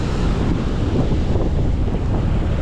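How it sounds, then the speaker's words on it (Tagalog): Strong typhoon wind from Typhoon Nando gusting over the coast at Nasugbu, Batangas, a dense steady roar buffeting the microphone with a surf-like rumble throughout, no voices. "Hangin lang ang malakas."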